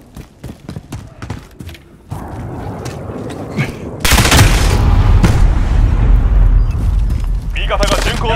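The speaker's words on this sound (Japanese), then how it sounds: "味方がミサイルを発射した" Explosions and gunfire in the video game Call of Duty: Modern Warfare, with an ally's missile detonating as a loud, sustained rumbling blast that swells midway and stays heavy, preceded by scattered sharp shots.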